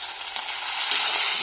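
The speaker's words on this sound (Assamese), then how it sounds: "এইফালে মোৰ কেৰাহী গৰম হ'ল, মাছ দি দিছোঁ।" Steady, loud sizzling of fish frying in hot oil in a wok, a continuous hiss that swells slightly partway through, with no voices.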